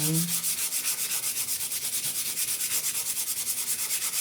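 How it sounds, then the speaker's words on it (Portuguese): Fine 400 or 320 grit sandpaper lightly sands a painted Christmas plaque in quick, even back-and-forth strokes, close up and steady for several seconds with no talking. "eu vou dar uma leve lixadinha pra dar um desgaste aqui nesse tom"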